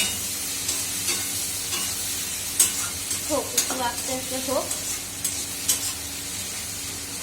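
Vegetables stir-fried in a home kitchen pan, a low steady sizzle with scraping stirs and a few sharp clinks, while someone speaks softly in Bengali over it.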